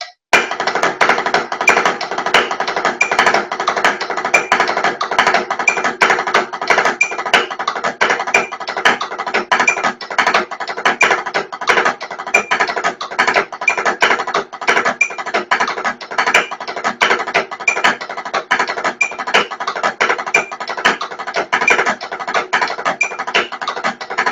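Continuous rapid snare drum strokes mix crisp taps with buzzy press rolls in a steady, dense pattern, played close and fairly loud with no talking.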